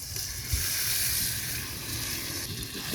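Marinated mutton hits frying onions with a steady, close hissing sizzle that holds evenly throughout, a small bump near the start, no voices over it.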